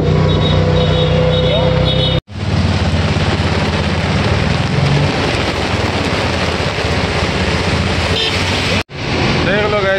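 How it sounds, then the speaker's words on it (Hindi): Heavy rain pours steadily in Chandigarh at night while vehicles pass nearby, a loud dense hiss with traffic rumble, cut by two brief silent gaps and overlaid with faint talk. "कितनी बारिश हो रही है"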